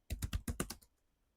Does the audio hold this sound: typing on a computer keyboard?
yes